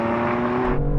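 Cars revving hard in a drag race between a Mercedes A45 and a BMW, a loud sustained engine roar with steady harmonic drone, close by.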